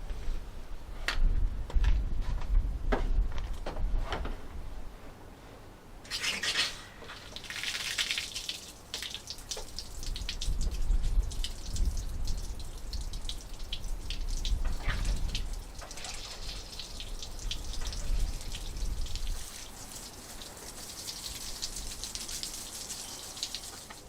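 Water splashes and gushes steadily as it is flushed out of a radiator from a Land Rover Discovery 2 TD5. It runs for a long stretch with a few clanks and knocks near the start, and no one talks.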